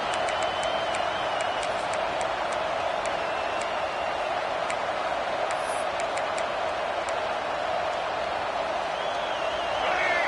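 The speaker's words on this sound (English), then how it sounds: "how nice is it to have the home crowd going absolutely bananas?" A home crowd at a football game roars steadily throughout, a dense sustained wash of cheering with faint ticking and whistle-like tones over it, no voices standing out.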